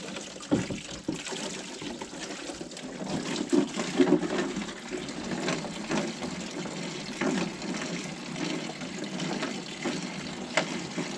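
Fluid draining out of a Super Pony moped engine that was removed after a breakdown, a continuous watery trickle and splash with uneven gurgling surges, fairly quiet and close, with no talking.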